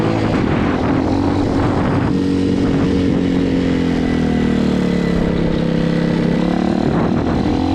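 A Honda Hawk 250cc motorcycle engine running wide open while being ridden, a loud, continuous close droning roar with steady pitch that dips slightly midway.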